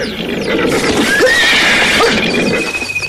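Several horses neigh in loud, shrill whinnies, one after another over a dense, noisy bed of hooves and movement, heard close in a dramatized audio story.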